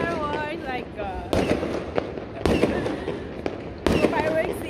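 New Year fireworks burst over Makati, with several sharp, loud blasts spaced a second or so apart over a steady crackling background, and voices talking throughout.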